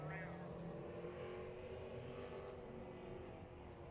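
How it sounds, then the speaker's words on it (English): A Porsche race car fitted with an American engine drives past at a hill-climb event, a distant, faint engine drone with a shifting pitch. "The Porsche working really good."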